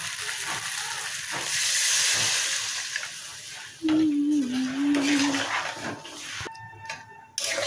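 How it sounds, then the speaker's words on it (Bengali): Water is poured into a hot pan of cooked-down onion masala for matar aloo ghugni, bringing a loud hissing sizzle that swells then settles into softer bubbling, with a brief tonal hum midway and a clatter near the end. "এবার আমি জল দিয়ে দেবো।"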